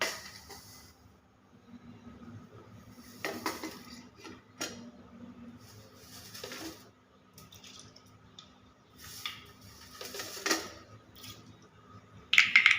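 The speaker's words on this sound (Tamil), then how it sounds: "இப்போது எண்ணெய் சூடேறிடுச்சு வாங்க கடுகை போட்டு தாளிச்சிக்கலாம்" Mustard seeds spluttering in hot oil for a tamarind rice tempering: sparse, faint pops and crackles scattered irregularly over several seconds, with a sharper burst of popping near the end.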